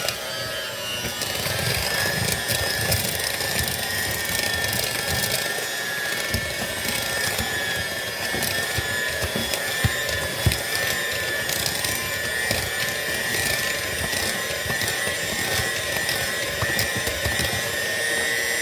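An electric mixer beats pineapple upside-down cake batter on its slow setting, a steady whirring motor drone with rattling, scraping texture from the beaters in the bowl, continuous throughout.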